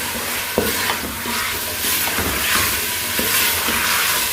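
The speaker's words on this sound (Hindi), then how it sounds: "इसका कलर चेंज होने तक हमें इसको भूनना है।" Meat (gosht) stirred and fried in masala in a pan, giving a loud, steady sizzle up close with intermittent scraping stir strokes and no talk.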